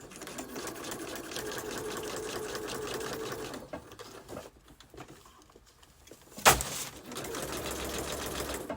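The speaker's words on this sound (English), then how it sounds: "My sewing machine is doing something a little weird here." A sewing machine stitching paper pages runs in a steady fast whirring chatter, stops for a couple of seconds, gives a sharp clack, then starts running again.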